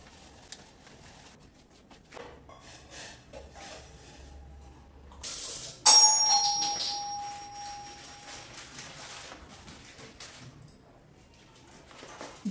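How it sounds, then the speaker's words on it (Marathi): A doorbell rings in a home in Pune while household items are being cleared out for pest control. A sudden bright electronic tone cuts in midway, holds for about two seconds and then fades over faint room noise. "बेल वाजली"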